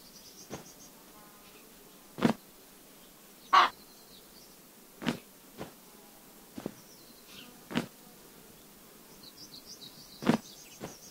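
Birds call intermittently in a quiet video game scene, with short sharp caws and chirps spaced a second or two apart over faint insect-like buzzing.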